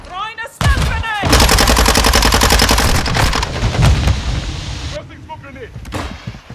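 Stun grenade and gunfire in Modern Warfare 2: a loud sustained roar of rapid gunfire and blast noise filling several seconds, with a shouted voice briefly at the start and end.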